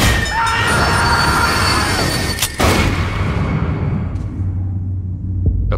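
A train rumbles along steadily with squealing wheels and clattering, loud and close, before the noise gradually fades.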